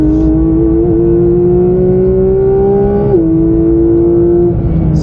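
A Porsche 992 GT3 engine revs high toward 9,000 rpm, a loud, close, climbing wail that holds a sustained howl with a brief dip and recovery, with no voices over it.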